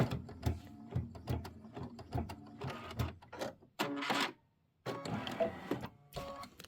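An embroidery machine stitches a leaf design onto a pillow, its rapid mechanical needle chatter running in bursts with brief pauses, close and moderately loud.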